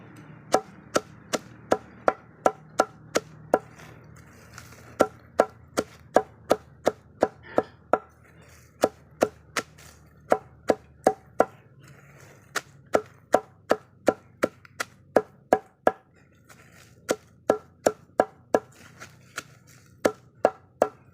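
Steady, sharp chopping blows on pig feed, dozens in a row at a quick regular pace, with brief pauses between runs; no voices.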